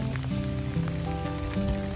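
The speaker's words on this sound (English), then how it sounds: "We've got like an inch of hail." About an inch of hail pelts a car during a winter storm near Whitefish, Montana, a dense continuous patter of small impacts heard from inside the vehicle with an engine hum beneath and no talking.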